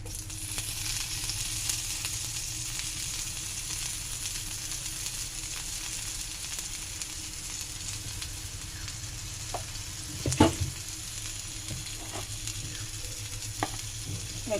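Garlic paste frying in mustard oil for a hilsa fish-head dish, a loud steady sizzle running throughout with occasional stirring scrapes and a sharp clank near the end.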